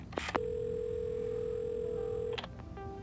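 A steady telephone dial tone hums alone in the game Assemble with Care after a brief handset clatter, holding unbroken for about two seconds before stopping, followed by a couple of faint clicks and a short tone.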